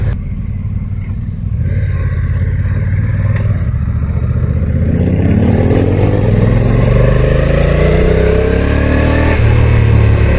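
A 2022 Honda NT1100 DCT motorcycle engine under way, loud and close, with rising revs and rhythmic pitch sweeps as the dual-clutch gearbox shifts, over constant wind and road rumble.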